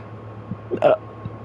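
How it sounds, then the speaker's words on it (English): A single sharp hiccup rises clearly above a quiet hum, with a couple of faint clicks just before and after it. "Oh god, I got the hiccups."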